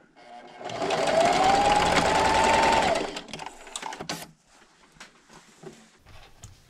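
A sewing machine stitches fabric strips for a table runner in one long, loud, close run of rapid needle hammering. Several short stop-start bursts follow as it backstitches.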